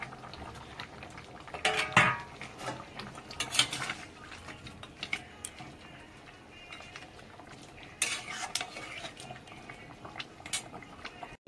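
Fried potatoes go into a pot of simmering goat meat curry, with a few bursts of metal utensil clinks and scrapes over a soft, steady bubbling close by.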